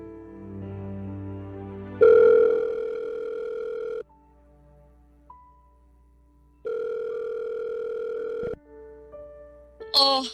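A steady telephone dial tone hums as a call is placed in a Tagalog radio drama, running in long unbroken stretches with short gaps between them and a few brief beeps near the end.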